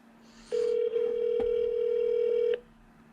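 A telephone dials out for a call, producing a steady electronic tone lasting about two seconds with brief key beeps mixed in, fairly quiet and with no talking.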